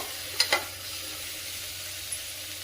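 Grated carrot halwa stirred in a pan, cooked with little ghee and no milk: a couple of sharp spoon scrapes near the start, then a soft steady sizzle with one faint later tap.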